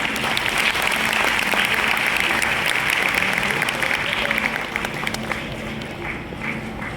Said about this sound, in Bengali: ওদের জন্য একটু করতালি।